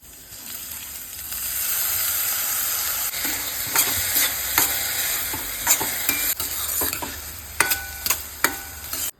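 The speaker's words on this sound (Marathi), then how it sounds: "धुवून ठेवलेली वरई या फोडणीमध्ये घालून परतून घ्यायची" Barnyard millet is stirred and sautéed in a hot tempering of chillies and cumin, giving a steady close sizzle with repeated scraping stirs and light clinks against the pan. No one speaks.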